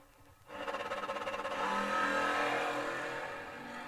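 A Chevrolet S10 drag car launches hard down the drag strip at a door car duel, its engine note rising from quiet into a loud, sustained roar that holds for several seconds before easing slightly. No voices.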